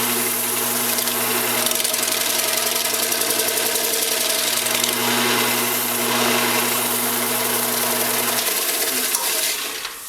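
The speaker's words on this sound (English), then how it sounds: "so now I'm just going to denib it a little bit with a scouring pad" A scouring pad rubs sanding sealer on a walnut live-edge platter spinning slowly on a lathe, making a steady close scrubbing hiss over the lathe motor's constant hum, which winds down near the end.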